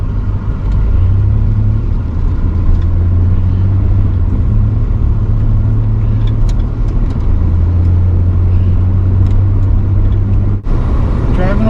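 GMC Sonoma GT pickup with a rear brake dragging fault, heard from inside while driving on a road: a steady loud engine and tyre rumble with a low droning hum, and brief soft clicks near the end.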